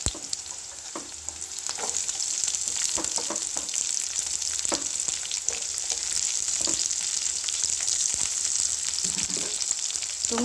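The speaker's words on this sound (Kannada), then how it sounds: "ಹಸಿಮೆಣಸಿನ್ಕಾಯಿ ಸ್ವಲ್ಪ ಫ್ರೈ ಆದ ನಂತರ ಈರುಳ್ಳಿಯನ್ನು ಹಾಕೋಬೇಕು." Green chilies and onions fry in a pan for chitranna with a steady, close hiss of oil and a few clinks and scrapes from stirring, and no voices.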